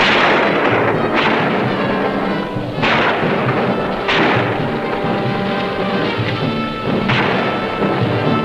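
Heavy gunfire and booming explosions from a 1960 war film about a ski troop attack, a dense, loud, continuous barrage with repeated sharp blasts every second or so.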